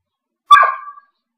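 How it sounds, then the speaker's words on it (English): A puppy next door gives one short, sharp bark that trails off quickly and stands alone against silence. "Those are the puppies next door."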